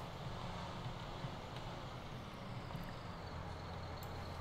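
A tractor engine drones steadily in Farming Simulator 19 on the Kiwi map, a continuous low rumble with broadband hiss, moderately loud and unbroken throughout.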